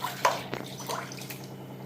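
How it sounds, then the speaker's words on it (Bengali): Water splashing and dripping while a child is bathed at home, soft close trickles and drips in a small room. "ওকে স্নানটা করিয়ে ফেলি।"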